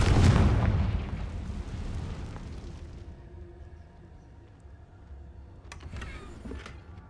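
A Confringo blasting spell explodes in Hogwarts Legacy with a loud, close boom at the start, then a rumbling decay that fades over several seconds, followed by a few faint crackles and impacts.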